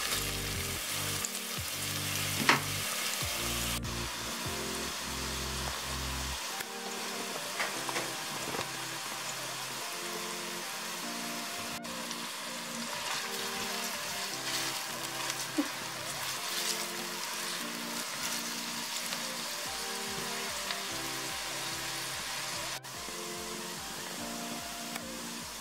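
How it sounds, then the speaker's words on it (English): Onions sautéing in a cast iron Dutch oven give a steady, close frying sizzle that runs the whole way through, with a few light clinks and stirring sounds and some background music underneath. "we have to saute the onions until the textures become translucent"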